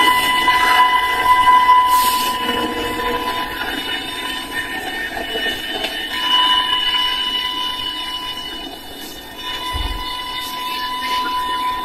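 An Israeli metro train runs along the track with a steady, fairly loud mechanical hum, a sustained electric whine and occasional brief squeals, heard from on board with no talk.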